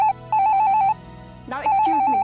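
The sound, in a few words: telephone bell ringing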